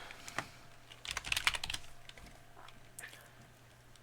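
Quiet typing on a computer keyboard while working in a game level editor, a short run of soft clustered key clicks, close and faint, with no speech.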